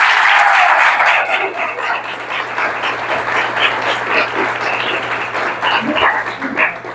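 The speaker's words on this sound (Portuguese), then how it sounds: "Vamos aplaudir o Senhor." Church congregation applauding during a Portuguese-language service, a dense, steady wash of many hands clapping that starts loud and stays even for several seconds, with faint scattered voices mixed in.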